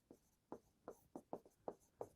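Chalk or marker writing on a board during a maths lesson on areas related to circles, seven crisp rhythmic strokes in quick succession, close and quiet with no talking.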